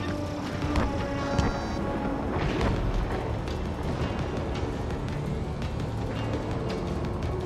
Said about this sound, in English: Missile away.